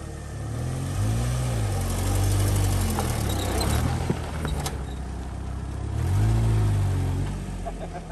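Jeep 4.0L four-cylinder engine driving, a low droning hum that swells twice as it revs up, close and steady with road rumble beneath.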